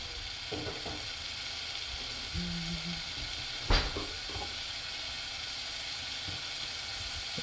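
Garlic and pepper paste sizzles steadily in a little oil for a Korean fried chicken sauce, a constant close frying hiss with a few soft clinks and stirring knocks, one sharper tap midway, and no talk.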